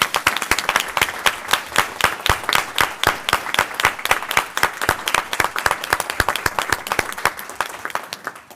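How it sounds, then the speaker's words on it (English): Applause from a modest audience at a board of trustees meeting, individual claps clearly distinct and irregular, moderately loud and continuing steadily before thinning out. "How about a round of applause for these two?"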